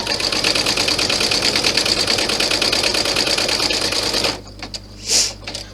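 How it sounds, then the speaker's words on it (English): An embroidery machine stitches out a small rectangle on an in-the-hoop bag strap, a loud, steady rapid needle chatter running alone for about four seconds before cutting off into quieter mechanical clicks and a short whir. "It's going to stitch out the little rectangle first."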